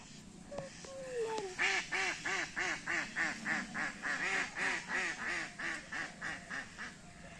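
Ducks at a pond quack repeatedly in a quick, steady series of about a dozen and a half loud, nasal calls, close by with no talking.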